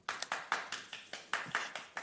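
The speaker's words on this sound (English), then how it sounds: "Oh, Levi and Laura are clapping as well." A few people clap in a studio during a live crafting show, about a dozen crisp moderately quiet hand claps in a quick uneven rhythm with no voices over them.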